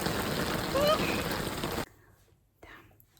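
Heavy rain lashes down on a Dublin street, a dense hissing wash that cuts off abruptly partway through, leaving near silence with a faint rustle.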